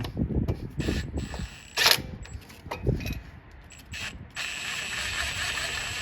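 An EGR valve is threaded into place on a 1995 Ford F150, with close metallic clicks, ratcheting and scraping sounds in uneven bursts against a background hum.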